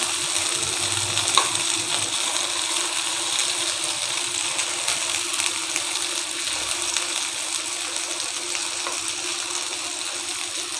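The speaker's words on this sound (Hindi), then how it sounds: "बस 1-2 मिनट के लिए हमने इनको फ्राई करना है" Chicken kofta fry in a spiced masala gravy, giving off a loud, steady, dense sizzle with faint bubbling and occasional stirring, and no voices over it.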